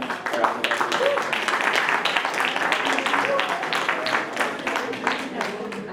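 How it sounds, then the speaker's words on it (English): Moderate applause from an audience at a formal event honouring catering staff, a quiet, steady patter of many hands that holds for several seconds, with some voices underneath. "Can we just give them a round of applause?"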